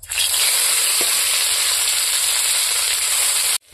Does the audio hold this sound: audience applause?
no